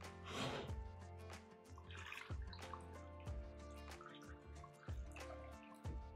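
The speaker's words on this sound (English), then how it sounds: "And then we're just gonna add enough water to cover." Water poured from a small height into a flip-top glass jar of spicy carrots for fermenting gives faint, intermittent drips and trickles with short splashy bursts, recorded up close and quiet.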